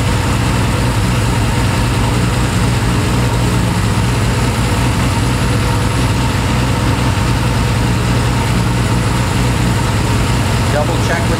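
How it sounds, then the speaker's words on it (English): A British sports car engine fitted with Zenith Stromberg or SU carburetors idles in a steady, loud, close low drone with even vibration and no break throughout. "You can keep the engine running while you're doing this."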